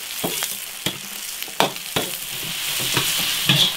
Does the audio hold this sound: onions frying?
yes